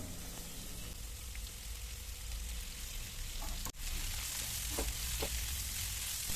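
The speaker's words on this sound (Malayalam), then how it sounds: "വെളിച്ചെണ്ണ ചൂടായി വരുന്ന സമയത്ത് ഉള്ളി ചേർത്ത് കൊടുക്കാം" Onions fry in hot coconut oil, giving a continuous moderate sizzle that holds steady, with one brief dropout and a few faint clicks of stirring.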